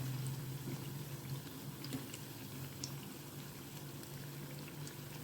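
Batter-coated green chillies for mirchi bajji frying in hot oil, a soft continuous bubbling sizzle with a few faint crackles, heard close and fairly quiet with no speech.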